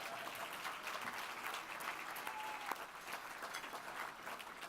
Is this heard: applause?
yes